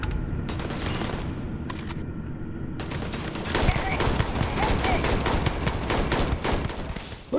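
A gun battle erupts in the space game Starfield, rapid bursts of automatic and single gunshots crackling close and loud in dense volleys, with a voice speaking briefly amid the firing.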